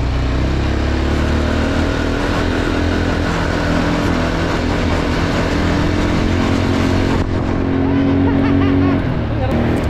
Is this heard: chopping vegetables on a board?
no